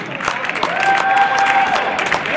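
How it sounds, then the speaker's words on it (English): Crowd applauding boxers at a Chicago Golden Gloves amateur bout, a loud sustained round of clapping with cheering mixed in across the whole stretch. "let's give our fighters another big round of applause"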